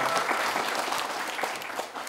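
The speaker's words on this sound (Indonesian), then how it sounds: "Tepuk tangan loh Ibu Desi dong." Campus event audience at a Palembang college gives a brief round of clapping, a busy patter of many hands heard moderately close, steady and then thinning slightly at the close, with no talking over it.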